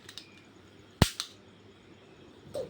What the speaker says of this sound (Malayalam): വെടി വെക്കാൻ പോവാണേ